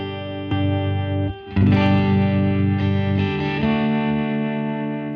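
Electric guitar played through a Sketchy distortion pedal, ringing out loud and saturated sustained chords with a short break in the middle, fuzzy and thick with no talking.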